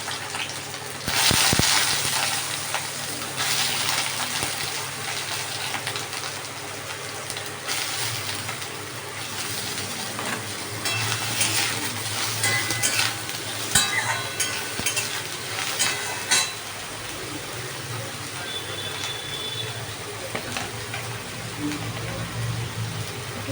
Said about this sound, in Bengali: এবার সেদ্ধ করা সোয়াবিনগুলো আমি তেলের মধ্যে ভাজিয়ে দিলাম